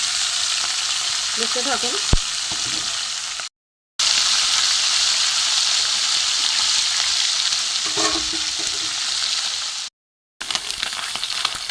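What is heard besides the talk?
small fish (mourola and puti) frying in a pan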